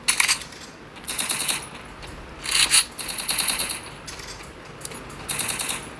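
Gunfire in a ranked battle royale video game comes as several crackling bursts of rapid shots separated by short pauses, fairly loud over a constant noisy background.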